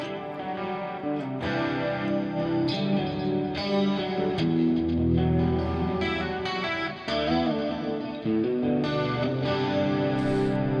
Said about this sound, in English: I prefer to have let's say almost crunchy sound like this.